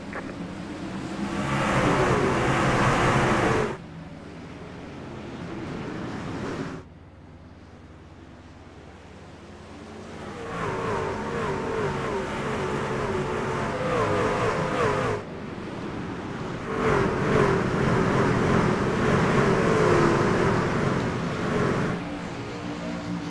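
Trucks accelerating in an iRacing truck series race at Martinsville, video game: loud, steady broadband engine roar that drops off briefly and then surges back, with no talk.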